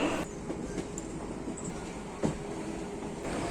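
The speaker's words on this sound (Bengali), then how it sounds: "আমাদের ট্রেন এই মুহূর্তে ছেড়ে বেরিয়ে যাচ্ছে হাওড়া স্টেশনের ছয় নম্বর প্ল্যাটফর্ম থেকে" A local train rolls out of platform six at Howrah station bound for Tarakeswar, a steady low rumble of the carriages with a faint clack partway through.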